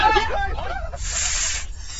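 A snake hisses in a steady, breathy burst lasting under a second, following a stretch of indistinct voices and rustling in a Thai horror film scene.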